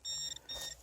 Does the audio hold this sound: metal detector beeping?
yes